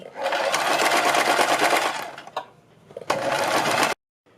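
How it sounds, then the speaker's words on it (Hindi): A sewing machine stitches a neckline strip on cloth in long steady bursts, stopping briefly around two seconds in, then running again before cutting off abruptly, close and loud with no voices. "फिर मशीन उठाएंगे, फिर दूसरी साइड भी हम इसी तरह से सिलाई लगा देंगे।"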